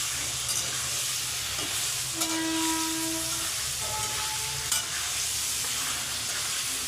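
Onions frying and being stirred for a mutton fry, a constant close sizzling hiss with spoon scrapes and a brief whistling steam tone, no voices.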